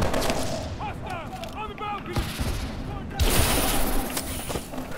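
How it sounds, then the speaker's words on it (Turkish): Gunfire from the video game Call of Duty Advanced Warfare crackles in scattered shots under someone talking, then swells into a louder, denser volley near the end. "Vurduk. Vurduk."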